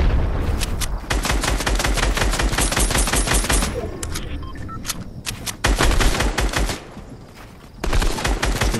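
Loud, close automatic gunfire in a Fortnite match, with rapid bursts of shots broken by brief pauses and a short quieter stretch in the middle.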